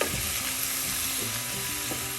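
Masala powder and salt are stirred into a sizzling pan for prawn masala, giving a steady close frying hiss with rhythmic scraping strokes of the spoon and no talking.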